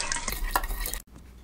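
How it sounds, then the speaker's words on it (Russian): A spoon stirs water in a pot of marinade with peppercorns to dissolve salt and sugar, a close, continuous swishing and scraping that stops abruptly, leaving faint room noise. "Заливаем водой и размешиваем до полного растворения кристаллов соли и сахара."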